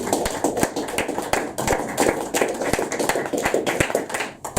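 Scattered hands clap for poet Natalie Katsou at a modern poetry evening in the King & Queen pub, a modest audience producing sharp, separate claps at an irregular pace before fading near the end.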